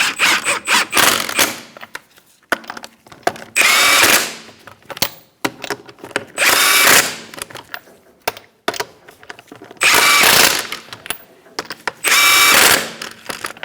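A power tool on Mazda 3 wheel lug nuts fires in four or five loud, close bursts of rattling impact hammering, each a second or so long, separated by short pauses and faint clicks.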